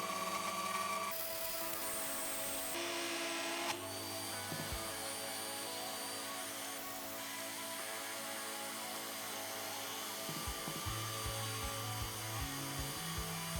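A power tool cuts through a carbon fibre sheet in a steady, continuous high whine, loud and close, with slight changes in pitch as the blade works along the line.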